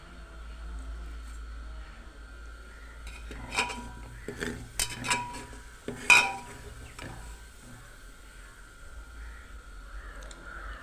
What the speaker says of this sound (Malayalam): ആ സബോളയും മൂത്ത് കിട്ടിയിട്ടുണ്ട് അപ്പം അത് നമുക്ക് കോരി മാറ്റാം